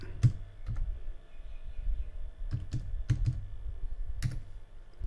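Fingers tap a password on a computer keyboard: a few scattered, crisp key clicks in small irregular clusters, close and moderately quiet over a steady low background hum.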